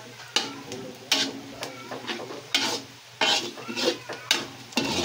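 Garlic and onion sautéing in a pan for pork sisig, with a soft sizzle under repeated rhythmic spatula scrapes and stirs against the pan, close and fairly loud.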